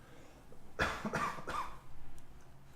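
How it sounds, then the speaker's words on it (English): Three quick, close coughs in a row, each a short raspy burst, with quiet room noise before and after. "Might have to do a cough."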